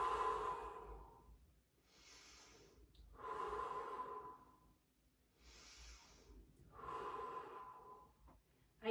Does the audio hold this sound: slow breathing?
yes